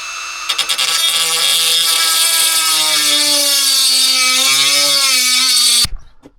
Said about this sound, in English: This Dremel head is the same diameter as the bolt, so this should work.